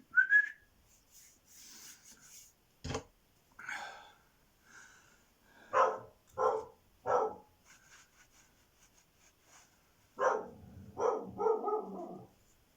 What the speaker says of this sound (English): It's alright, my dog's just barking.